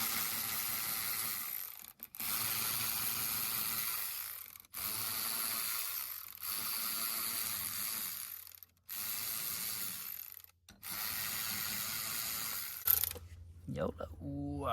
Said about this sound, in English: And with these bolts, you want to torque them.